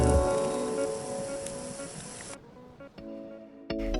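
Shrimp cooking in a pan make a loud hissing sizzle that cuts off sharply partway through. Soft clicks and thuds follow.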